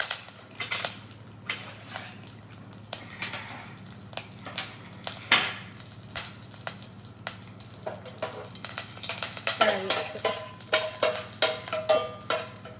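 Red chillies, curry leaves and fenugreek seeds crackle and splutter in hot oil for okra pulusu, a steady run of sharp pops and spits over a low frying hiss, busier toward the end.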